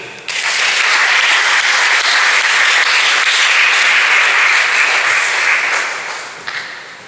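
A church congregation at a prophetic and deliverance service in a hotel claps loudly and continuously as sustained applause, fading toward the end.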